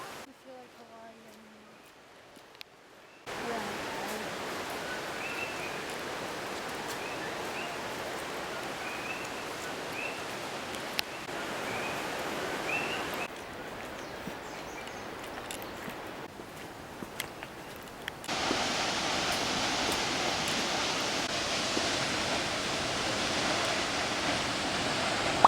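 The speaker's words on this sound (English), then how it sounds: "This was a tinier waterfall that you could also hike to on the way back." A small waterfall on Hawaii's Big Island, near Hilo, gives a steady, even rush of falling water that stays constant throughout, with occasional footsteps and a voice talking over it.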